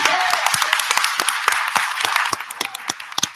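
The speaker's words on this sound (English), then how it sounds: "Give him a hand, everybody." Applause breaks out at a village trustees' board meeting, a dense burst of clapping from the room that fades into scattered, separate claps toward the end.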